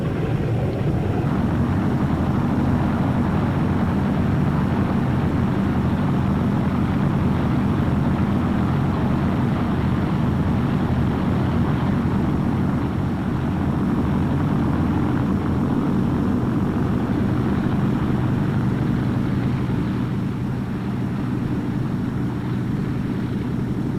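A World War II training aircraft's propeller engine drones steadily and loudly throughout the takeoff run, a continuous low roar with wind buffeting and no voices.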